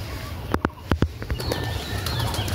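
A pigeon held in the hand struggles, its wings beating in several sharp, close bursts of flapping, followed by softer rustling and faint background chatter.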